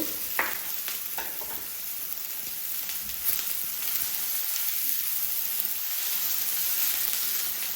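Three tomatoes laid out flat in a hot pan fry with a steady, close sizzle and crackle, loud and continuous, with occasional stirring clatter and no talking.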